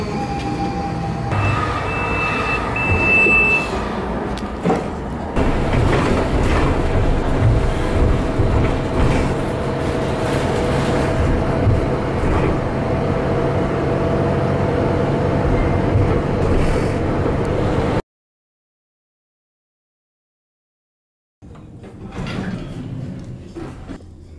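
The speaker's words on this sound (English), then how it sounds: "we're at the train station, catching train today" Inside a train station, a steady rumble of rail traffic and carriages fills the space, with a sliding door and a brief high tone early on; the sound cuts to silence before a short burst of station noise returns.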